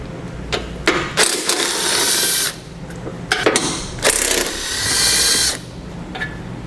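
A ratchet wrench works loose the upper outer bolt holding a bumper support to the frame rail on a 2015 Ford Fiesta, giving close, loud bursts of rapid clicking in several separate runs with short pauses between.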